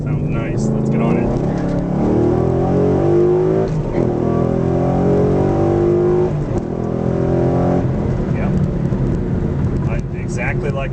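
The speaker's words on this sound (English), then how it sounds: "Let's try a little rev matching downshifts here. Ooh, that does sound a lot more popping." Car fitted with a Corsa sport exhaust, heard from inside the cabin, revs climbing and dropping through heel-toe rev-matched downshifts with popping blips, loud and continuous.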